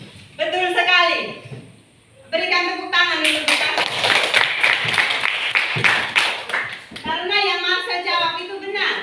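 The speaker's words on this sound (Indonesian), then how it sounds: "Berikan tepuk tangan untuk kita." A classroom of students applauding, a dense burst of clapping lasting several seconds after a short spoken prompt, with voices before and after.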